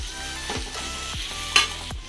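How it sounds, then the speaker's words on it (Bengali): An egg chop filling fries in a pan with a constant sizzle while a spatula stirs and scrapes it in several distinct strokes, close and fairly loud, without any talk. "এই দেখো, এবার এটাকে নাড়াচাড়া করে এবার এর মধ্যে আমি নুন দেব স্বাদ অনুযায়ী"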